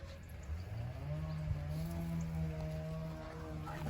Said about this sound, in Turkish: anneyi görmeyen yavru devamlı bağırıyor